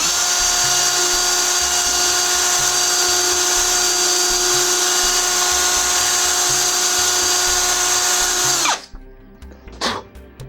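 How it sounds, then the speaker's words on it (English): A power drill spins a rifle cleaning rod from a VZ-52 against sandpaper, giving a loud, steady high whine for about nine seconds before it cuts off abruptly, followed by a few faint clicks and rattles. "You're just gonna use that drill to run it into your sandpaper and get it done like that."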